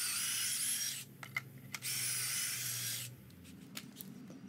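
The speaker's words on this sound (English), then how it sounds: "we're going to add pocket holes to the 2x4 that becomes the cleat for the headrest" A power drill boring pocket holes into a 2x4 for a plywood daybed cleat, two loud high whirring bursts heard close, separated by brief pauses with small knocks and clicks.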